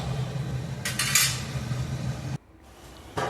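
Sambar with sambar masala stirred in a cooking pot, a spoon scraping and clinking against the metal over a low bubbling hum, then a sudden drop to near quiet before the clatter briefly returns.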